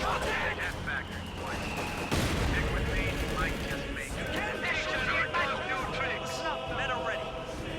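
Machine gun fire rattles in a World War II battle video game, with bursts of shots and distant explosions under continuous talk.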